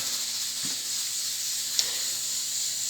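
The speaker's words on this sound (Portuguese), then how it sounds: "Vou desligar essa panela de pressão aqui que está atrapalhando a aula" A pressure cooker releases a steady, sustained hiss of steam in a room, a constant airy whoosh running unbroken with a low hum beneath and a brief click partway through.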